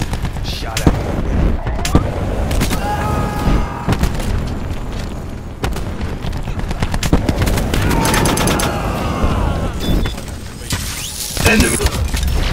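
Call of Duty Black Ops 4 gameplay is full of dense gunfire: rapid bursts of shots and booming blasts over a constant busy battlefield background, with brief game voice cues.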